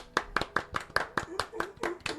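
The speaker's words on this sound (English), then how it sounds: "let's give Dom a little fucking applause" Audience clapping at a comedy podcast taping, a steady sequence of about ten sharp, evenly spaced claps, fairly faint, with talk mixed in.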